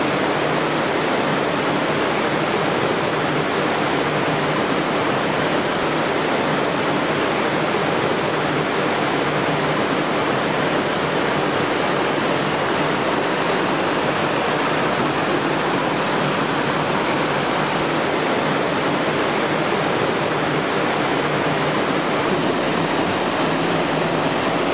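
A cascade of waterfalls roars in a constant, loud, full-bodied rush of falling water, unbroken and steady for the whole stretch with no voices over it.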